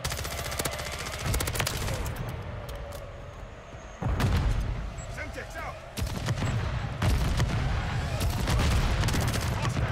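Rapid automatic gunfire and sharp blasts from a Call of Duty: Modern Warfare 3 multiplayer match, including a thrown Semtex grenade detonating; dense, loud bursts that stop and resume several times with no talking.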